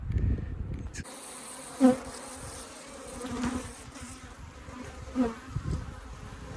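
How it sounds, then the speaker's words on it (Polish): Honeybees buzz around an open hive during a spring inspection, a soft, close, continuous drone with a few louder passes as single bees fly near. "O, jest troszkę pszczółek. One sobie tutaj pewnie pracują."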